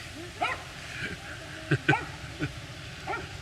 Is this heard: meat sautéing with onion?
no